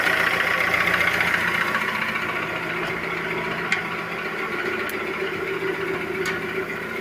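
The 1.4 engine of a 2003 Skoda Fabia idles steadily at close range, a low constant hum with a few faint clicks and ticks.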